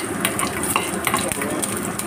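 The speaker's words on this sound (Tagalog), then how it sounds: "Papakulo ako ng mantika. Tapos ito, kasa ko yung ginger." Ginger frying in hot cooking oil, a steady close crackling sizzle with small pops throughout.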